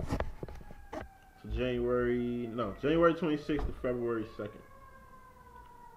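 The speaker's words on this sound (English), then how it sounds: "Excuse the sirens, I live in Inglewood," Emergency vehicle sirens wail in Inglewood, with steady, slowly gliding tones running faintly in the background beneath a person speaking.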